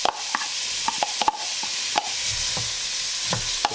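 Onions cook in canola oil in a pot over medium-high heat, a soft sizzle under repeated sharp spoon clinks and stirring knocks against the pot, close by.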